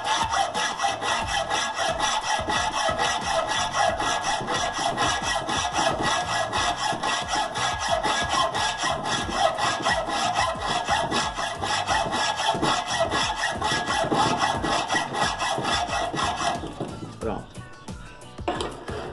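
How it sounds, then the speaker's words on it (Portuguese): A hand hacksaw cuts a homemade steel gear rack for small gears, its rapid, steady back-and-forth rasping strokes loud and close for most of the stretch before tapering off near the end. "Porém, agora o arco de serra está virado para o lado esquerdo"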